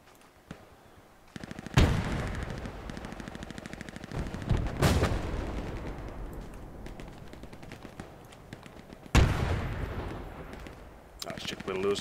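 Gunfire in the World War II shooter Hell Let Loose on the Las Colinas map: repeated rifle and machine-gun bursts, some near and sharp, others distant, with heavy booms standing out as loud peaks, under occasional talk.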